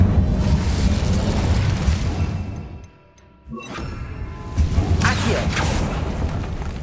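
An Incendio fire spell blast in Hogwarts Legacy, a loud roaring whoosh of flame that drops away briefly, then surges again with crackling bursts.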